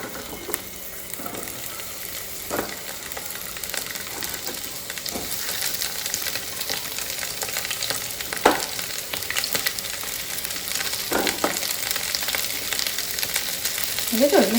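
Food frying in mustard oil in a pan with leftover flatbread crumbs gives a continuous sizzle, with repeated scraping stirs every second or two that grow slightly louder toward the end.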